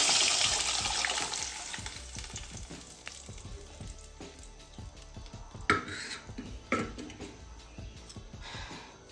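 Lentils tipped into a sizzling tempering in a pan for rasam, a loud hiss that fades, then scattered stirring scrapes and a few sharper bursts of sizzle, close and without talk.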